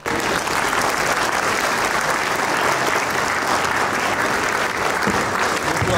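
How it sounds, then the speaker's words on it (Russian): Steady, loud audience applause fills a hall during a ceremony awarding insignia at a Defender of the Fatherland Day event in Mytishchi, dense continuous clapping with no break. "Под аплодисменты зрителей"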